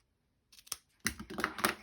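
Scissors cutting ribbon for a Christmas gift or treat, a handful of sharp close snips after a brief silence, quick and clustered in under two seconds.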